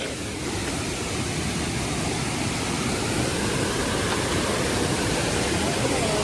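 Steady, loud rush of a waterfall and stream at Vattavada fills the whole clip, a constant broadband roar with no break and no voices.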